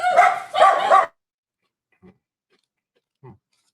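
Two loud, close dog barks come in quick succession, followed by near silence with a couple of very faint, brief sounds.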